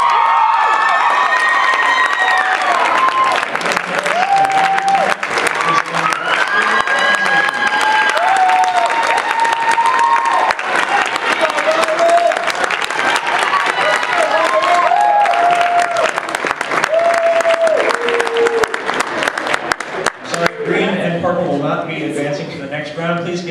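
Sustained applause and cheering from a dance competition audience fill the room, loud and continuous for over twenty seconds, with shouts and voices mixed in.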